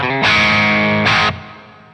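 An electric guitar plays through a Kraken VX100 amp set to crunch, with reverb from a tube amp expander: two loud distorted strummed chords in quick succession, the second ringing out and decaying.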